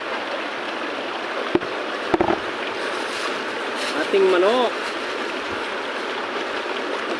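A river flows with a steady, broad wash of running water while crabbing for freshwater katang along its bank; a voice speaks briefly over it and a few short knocks sound nearby.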